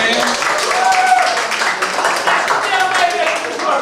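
Guests at a school graduation party clap for the winner of a contest, a close, fairly loud patter of hands with voices talking over the clapping.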